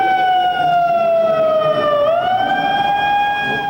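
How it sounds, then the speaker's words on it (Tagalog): A very loud alarm wails steadily during an earthquake shake drill at a shopping mall, a single continuous siren tone that dips in pitch and then rises again. "Sa takdang oras, umalingaw-ngaw ang napakalakas na alarma."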